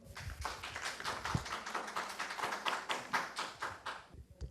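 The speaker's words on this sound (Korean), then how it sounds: "박수 한번 보내주시죠." An audience at a conference session on constitutional reform and decentralization claps in a brisk, even rhythm of distinct hand strikes that continues for several seconds, then tapers off near the end.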